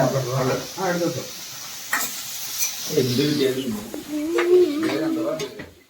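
Chicken biryani cooking in a pan, with steady sizzling frying and the scrape of stirring against the metal, close and continuous, while people talk over it.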